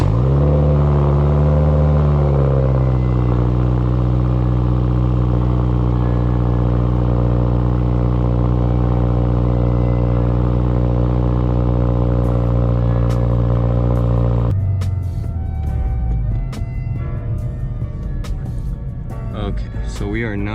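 A Subaru WRX drives on a road, with a steady, loud engine hum that climbs through the gears, then drops to a rougher, lower rumble with some clatter as it slows.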